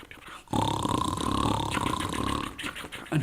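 A person imitates a loud, drawn-out snore, a rough grunting rasp that sustains for a couple of seconds before a brief second snort.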